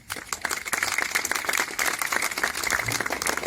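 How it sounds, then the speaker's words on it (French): Dense, steady applause from an audience at the inauguration of a museum in a former sanatorium, many hands clapping close and loud throughout. "Et je crois qu'on peut l'applaudir aussi."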